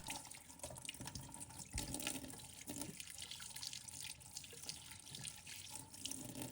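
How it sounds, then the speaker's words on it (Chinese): Running tap water rinses a muddy yam in a kitchen sink. The flow is a quiet, continuous splash with small irregular spatters as the root is turned under the stream. "我们先把山药用流动水多清洗一下"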